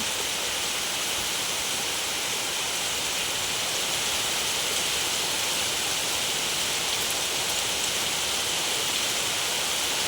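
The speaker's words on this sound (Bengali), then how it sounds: "প্রচুর পরিমাণে এখানে প্রচুর বৃষ্টি হচ্ছে" Heavy rain pouring down in a steady, dense, unbroken roar, loud and close, with no voices.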